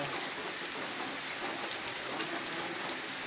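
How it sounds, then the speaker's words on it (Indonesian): Heavy rain pours on a misty mountain hiking trail on Mount Sumbing, a dense, steady hiss of drops with a few sharper nearby splats and no talking. "Parah hujan keras."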